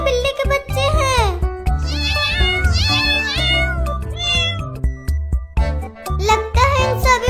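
Several kittens meowing loudly and repeatedly in high, overlapping cries close by, with a voice briefly mixed in.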